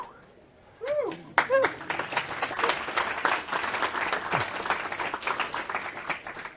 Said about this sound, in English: The applause is absolutely not for me.